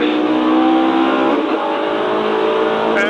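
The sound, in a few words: race car engine during a race at Brands Hatch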